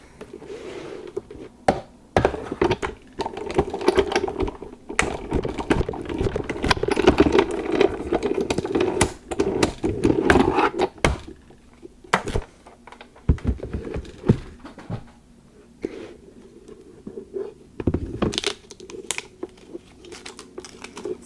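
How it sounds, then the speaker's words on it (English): A die cutting machine runs close by, pressing dies through foiled card, giving a busy mechanical rattling and clicking whir with bursts of activity and brief pauses, no voices. "Bring my die cutting machine up."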